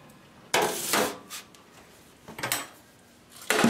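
A pan of baked potatoes lifted out of the oven and set down on the stovetop, with a few distinct metallic clanks and scrapes separated by quiet pauses, close and fairly loud, with no talking.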